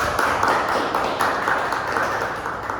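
Students in a classroom give a short round of applause, a steady, fairly loud patter of many hands that lasts a few seconds.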